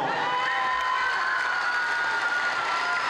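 Audience applause and cheering for chorister Laura Peña after a school symphony orchestra's encore, thick continuous clapping from a large crowd with scattered shouts mixed in, loud and steady across the whole stretch.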